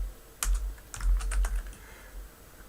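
Quick keystrokes tap on a computer keyboard while entering AutoLISP commands: a short burst of light, close clicks in an uneven rhythm, quiet and free of talk.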